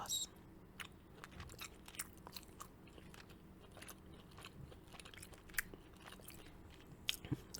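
Chimichurri chicken being bitten and chewed close to the mic, with soft wet crunches and mouth sounds at an irregular pace, a few sharper bites standing out.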